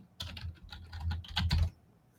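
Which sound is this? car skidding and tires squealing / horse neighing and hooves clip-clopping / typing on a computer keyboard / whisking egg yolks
typing on a computer keyboard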